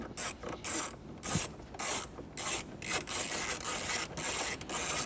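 Ratchet with a 10mm socket loosening front bolts on a 2014-2019 Toyota Tundra gives repeated short bursts of rapid, close metallic clicking with brief pauses between strokes and no talking.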